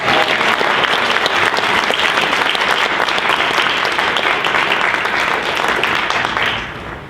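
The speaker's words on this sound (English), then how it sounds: "Let's give a round of applause to Howard University." Audience applause for Howard University at a Furious Flower poetry reading by Tony Medina, a dense, steady roar of many hands clapping that holds loud throughout and fades slightly at the end.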